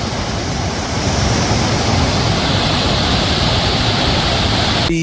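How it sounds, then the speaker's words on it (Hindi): A loud, constant roar of rushing water at a dam in Uttarakhand fills everything, dense and unbroken like a powerful torrent close by. "बहुत तेज़ आवाज़ आ रही है पानी की"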